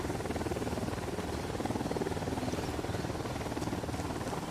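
Helicopter in the video game Ghost Recon Wildlands: a steady, rhythmic rotor chop with an engine drone, continuous and moderately quiet, with no talk.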